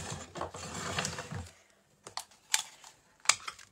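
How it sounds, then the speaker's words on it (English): A craft paper punch snaps through stamped card butterflies, giving a dense run of crunchy mechanical clicks followed by a few sharp, separate clacks of the punch handle, close and with no talking. "And I'm now going to cut them out with my punch."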